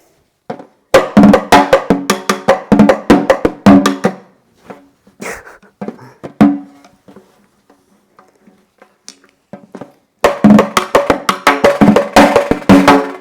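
A snare drum with the snares off is struck in quick bursts of hollow, ringing hits, first a rapid roll, then scattered single taps, then another fast flurry.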